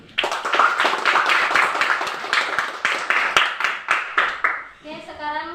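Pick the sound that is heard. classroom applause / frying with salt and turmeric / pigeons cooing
classroom applause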